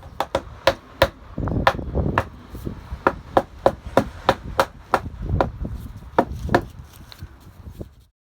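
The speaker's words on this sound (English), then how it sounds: "I'll probably have to hammer them in a bit because I made them so they'll be a bit tight." A hammer knocks tight-fitting pallet wood boards into place on a planter, about fifteen sharp, close wooden strikes in an irregular rhythm, some in quick pairs, alone without talk.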